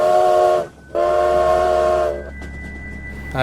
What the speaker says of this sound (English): You guys all notice a slowing of the train as it begins to pull into its station.